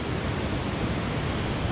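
Dark, peat-stained water runs away from a waterfall on Scotland's NC500 route, a continuous broadband rushing wash that stays loud and even from start to finish, with no voices.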